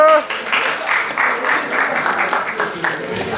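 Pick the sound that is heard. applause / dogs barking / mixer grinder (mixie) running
applause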